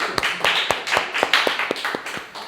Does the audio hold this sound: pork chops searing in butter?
no